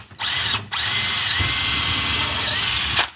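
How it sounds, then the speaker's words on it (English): A power drill drives a screw into a wooden stud beside a cross member while a model railroad display module is installed. A short burst comes first, then one long, steady, close whine with no talk. "Just need my drill."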